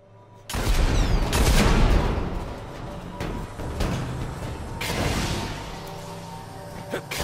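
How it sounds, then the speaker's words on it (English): Gunfire in the video game Destiny: The Taken King: a loud opening volley followed by several lighter bursts and booms that fade between shots. "Let's shoot him and see what happens"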